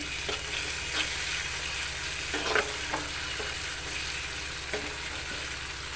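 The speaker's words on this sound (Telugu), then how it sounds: "కొద్దిసేపు నూనెలో ఫ్రై కావాలి" Onion, ginger paste and green chilli fry in oil for a curry with fenugreek leaves and tomato, giving a soft continuous sizzle broken by a few light stirring knocks against the pan, without any voices.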